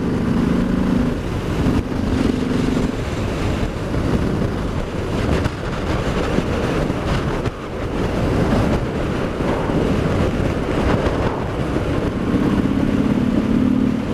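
A 2019 Harley-Davidson Sport Glide cruiser motorcycle accelerating hard on a countryside road, its engine a steady loud rumble heavily mixed with rushing wind buffeting the microphone, continuous throughout with no talk.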